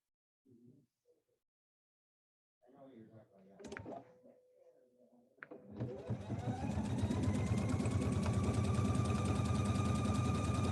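A PFAFF sewing machine set to a single stitch starts up after brief handling noises and then runs steadily and loudly in a continuous whirring hum.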